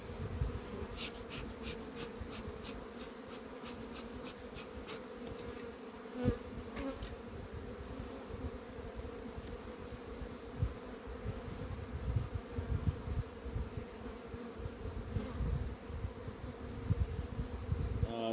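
Honeybees in a nuc hive, with a few drones among them during an April inspection, make a continuous close, soft buzzing hum, with faint clicks and shuffles over it and no talk.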